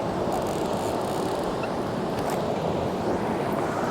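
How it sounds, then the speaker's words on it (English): Whitewater of a class 3–5 rapid on the Gunnison River roars in a steady, dense rush, loud and unbroken throughout, with no voices. "Boy, we've got a class 3-5 rapid."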